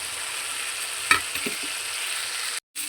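Small chuno fish frying in a pan while a fish curry is cooked with salt and turmeric: a steady sizzle throughout, a sharp clatter near the start, then a brief dropout near the end.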